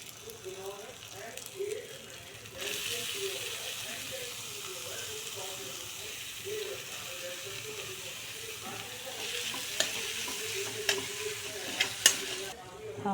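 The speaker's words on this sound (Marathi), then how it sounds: "आता यात पनीर घालणार आहे," Crushed paneer frying and being stirred in a pan for paneer bhurji, a steady close sizzle with scraping spoon strokes throughout and sharper clinks of the utensil toward the end.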